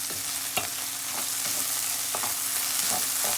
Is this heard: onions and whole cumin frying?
yes